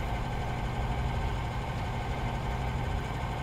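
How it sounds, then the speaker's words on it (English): A Lakon ship's engines in the space game Elite Dangerous hum steadily, a dense, loud low-frequency rumble with constant vibration and no breaks. "The one thing about the Lakon, it's noisy."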